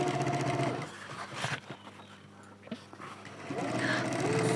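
A sewing machine stitches a shopping bag, with short bursts of motor whirring at the start and end and a quieter stretch in between.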